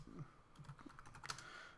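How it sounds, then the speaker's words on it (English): Keystrokes on a computer keyboard while entering a title for a Destiny fireteam search, a quick run of light, quiet clicks with one sharper tap near the end. "Typing."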